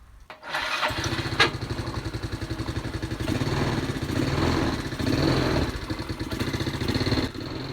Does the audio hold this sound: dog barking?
no